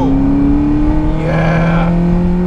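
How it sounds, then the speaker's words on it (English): A 1995 Honda Accord 2.0 115 hp engine hums at steady idle-to-moderate revs, its tone climbing slightly as it's revved, close and loud with no voices. "Okay, I'll rev it for you."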